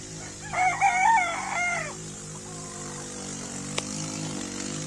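A pure white Kelso gamefowl rooster gives one clear, close crow lasting about a second and a half. A low engine hum drones steadily in the background.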